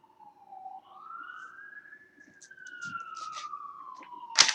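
A single police or ambulance siren wails in one long slow rising and falling sweep, faint and distant, with some light background noise and a brief sharper sound at the end.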